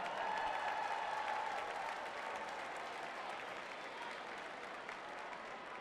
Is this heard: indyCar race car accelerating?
no